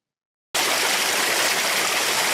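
Water cascades down out of the hills near a gold-prospecting spot, a loud steady broadband rush that starts abruptly after a moment of silence and continues unbroken.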